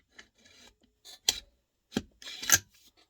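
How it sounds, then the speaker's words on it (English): A Ruger AR-556 rifle's trigger and hammer produce a few sharp, dry mechanical clicks, some coming in close pairs, heard up close and quiet with pauses between them and no talking. "you'll hear the double set of the hammer."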